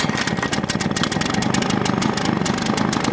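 A Husqvarna 150BT backpack blower's small two-stroke engine idles close by with a fast, even, sputtering rhythm and no one talking.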